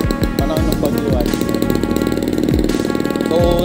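A tricycle motorcycle engine on a ride through Bagong Bayan in Pililla, Rizal, a loud, rough continuous drone with pulsing low rumble and occasional revving thumps, close and steady throughout.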